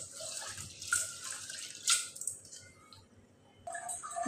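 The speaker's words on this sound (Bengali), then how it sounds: "এই যে আমি ডালটা ধুয়ে নিচ্ছি।" Lentils (dal) are rinsed in a bowl of water before cooking, with swishing, splashing and dripping that rise and fall in bursts, fairly close and with no talk.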